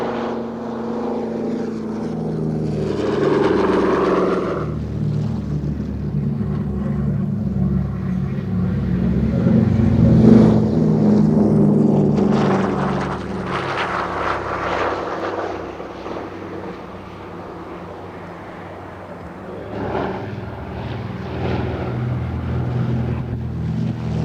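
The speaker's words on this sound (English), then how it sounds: "No less than 7 DC-3s showed the stream takeoffs" Several Douglas DC-3 propeller aircraft make stream takeoffs at an air show at RAF Fairford, a continuous droning engine roar that swells and fades as the planes pass, heard from a distance with some wind buffeting.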